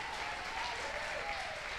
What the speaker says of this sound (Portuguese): Vamos aplaudir bem forte o nome do Senhor.